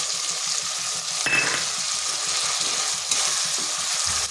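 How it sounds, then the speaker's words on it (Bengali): Ginger-garlic paste fries steadily in a pan for an egg and masoor dal curry, a continuous close sizzle with soft stirring scrapes and a brief louder burst of spattering partway through. "এরপর কিছুক্ষণ ভেজে নিতে হবে, যাতে আদা আর রসুনের গন্ধটা চলে যায়, কাঁচা গন্ধটা"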